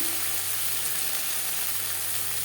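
Steady, even sizzle of onion frying in oil with garlic, ginger and green chilli paste, a continuous hiss at constant level with no talk.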